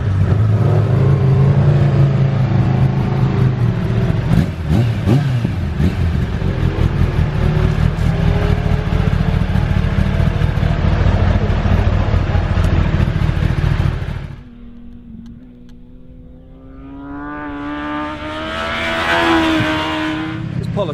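Kawasaki ZX10 superbike engine roaring loudly and steadily as it laps a race circuit, with a sharp drop after about fourteen seconds and a rising rev toward the end.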